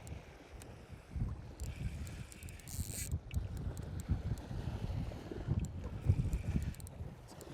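A fishing reel's drag ratchets steadily as line runs out on a boat on Gull Lake, its clicking buried in constant wind buffeting and low water rumble.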